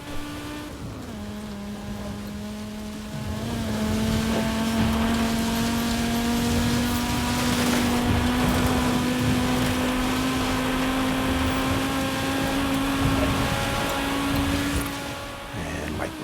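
Lamborghini engines in a racing video game, one holding a long, steady high whine that climbs slowly in pitch, with a second engine droning underneath, loud and close throughout.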